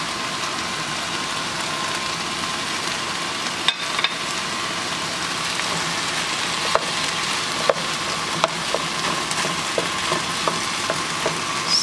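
Onions and garlic sizzle steadily in a pan for chicken chilli, with a constant frying hiss and occasional sharp scrapes and taps as the mixture is stirred, close and clear with no talking.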